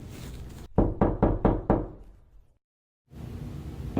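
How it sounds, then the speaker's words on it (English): Five sharp, evenly spaced knocks strike in quick succession after a brief murky rumble, their ringing decaying into silence before a low ambient hiss returns. "I sometimes wake up in the middle of the night to the sound of knocking"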